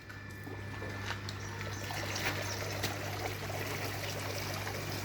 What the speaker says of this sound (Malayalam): ഇതാണ് എൻ്റെ മോട്ടറിട്ട എൻ്റെ കൊച്ചരുവി. വെള്ളച്ചാട്ടമെല്ലാമായിട്ട്.